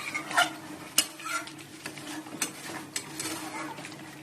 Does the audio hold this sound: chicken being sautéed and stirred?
yes